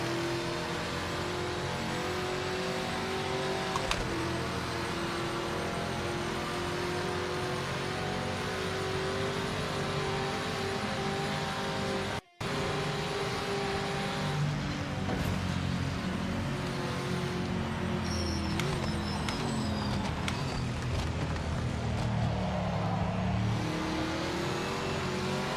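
A Porsche race car in the Project Motor Racing video game drones and revs continuously at close range, its engine pitch rising and falling through gear changes with no talking.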